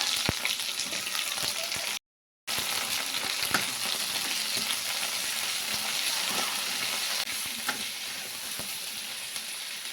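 Okra frying in oil in a pan, a continuous close hiss and sizzle with small crackles, broken by a brief silent gap near the start.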